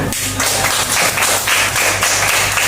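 Schoolchildren in a fifth-grade class clap together in a loud, dense burst of applause that carries on steadily and close by, with a brief thump near the start.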